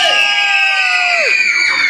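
A group of girls scream together like fans greeting a band taking the stage, a loud, sustained, high-pitched crowd shriek that fills the whole moment.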